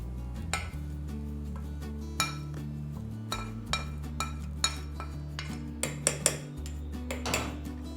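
Roasted chutney ingredients for a vada pav dry chutney are moved into a jar, with a spoon scraping and clinking against metal and glass in quiet, irregular taps over a low background hum.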